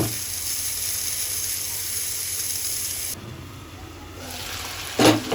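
A pan of mixed vegetable curry simmers on the stove with a steady soft sizzle and hiss, the steam quieting partway through before a brief clatter near the end.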